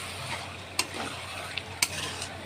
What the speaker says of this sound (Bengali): এবার এটাকে আমরা কষাবো। এবার যতক্ষণ তেল না ছাড়বে ততক্ষণ এই মাংসটাকে কষাবো।